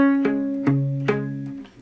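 Slow guitar riff, several plucked notes and power chords ringing into each other, played clearly and alone at a relaxed pace.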